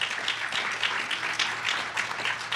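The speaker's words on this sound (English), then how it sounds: "they deserve applause" A crowd applauds at a domestic violence awareness lighting ceremony, steady clapping from many people filling the space evenly, with a low hum beneath and no talking.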